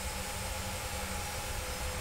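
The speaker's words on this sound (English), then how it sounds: "Starting engine number one." Engine number one of a PMDG jet airliner in Microsoft Flight Simulator spins up during start, a loud, steady broadband roar with a faint whine held evenly throughout.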